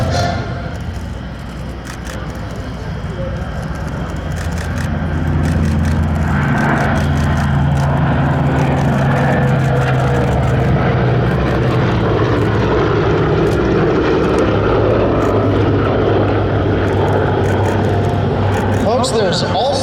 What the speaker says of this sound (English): Here comes the B-17, the ME-109, and the P-47 Thunderbolt.